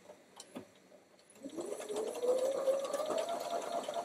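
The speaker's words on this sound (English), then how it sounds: "I'm just sewing right down the middle of that line, not to the right or to the left" A sewing machine stitches quilt block units for a Mississippi Star block, starting after a few faint clicks and settling into a steady close whirring hum that rises slightly in pitch as it runs, with no talk.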